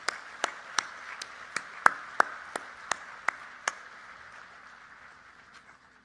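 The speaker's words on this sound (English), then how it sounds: "Let's give all of them a round of applause" Sparse applause for Hall of Fame honorees at a Class of 2022 graduation ceremony: about ten distinct sharp claps spaced roughly evenly over four seconds, then fading into quiet room tone.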